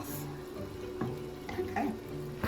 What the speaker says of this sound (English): I'm going to add another ladle or 2 of broth